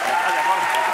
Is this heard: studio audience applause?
yes